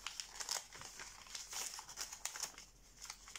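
Origami paper creases and crinkles under the fingers while a Montroll pteranodon model is folded and pinched, a close run of soft rustles and sharp little crackles.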